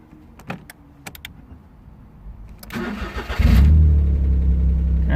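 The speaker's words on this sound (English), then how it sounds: "try to start the car" A Smart Fortwo 451 is cranked and starts: a few clicks and a short whir, then the starter turns over and the engine catches, settling into a loud, steady idle close by.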